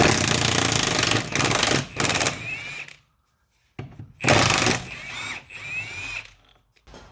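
Loud bursts from a power tool driving bolts out of a D-bush on a Ford P100 pickup, two long rattling runs broken by a clear silent gap, close and harsh with no talk.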